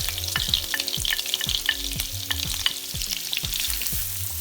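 Shallots, onion and garlic sautéing in melted butter give a steady, close crackling sizzle, with rhythmic stirring strokes and scrapes repeating roughly every half second throughout, no voices.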